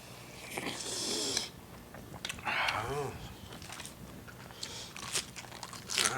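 Close, wet crunching and chewing as someone eats fresh raw vegetables with bamboo shoot soup, with repeated bites, slurps and mouth sounds over steady background noise.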